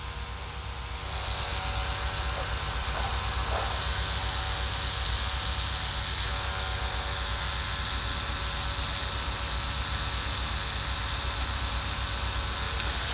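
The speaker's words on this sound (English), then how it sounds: "So this is how you use the toothbrush." An electric toothbrush is held against a tomato flower to vibrate it for hand pollination, producing a steady buzzing hum with a hissy edge. The sound runs continuously and close up, with faint small shifts as it touches the petals.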